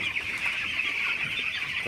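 A crowd of broiler chickens chirps and clucks continuously at night in a busy, high-pitched chorus, fairly close, with no talking.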